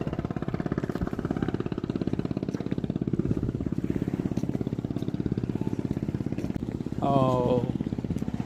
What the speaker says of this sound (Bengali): সামনে একটা স্পিড বোট আসছে